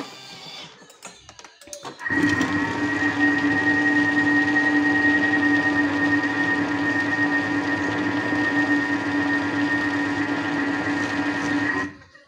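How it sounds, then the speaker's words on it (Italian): A kitchen blender runs steadily on a chicken nugget mixture, a loud continuous motor whine with a strong hum, starting abruptly after a short pause with some handling noise and stopping near the end, with no talking. "quindi frulliamo ancora un pochino"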